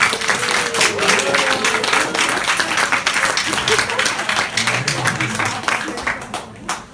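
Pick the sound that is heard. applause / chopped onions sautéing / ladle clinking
applause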